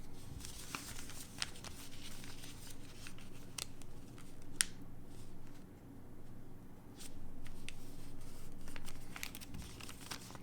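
Paper is folded by hand in an origami lesson, with soft crinkles, creasing rubs and scattered sharp taps, quiet and close.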